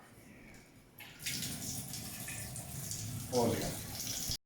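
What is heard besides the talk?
running water from a tap to prepare hot water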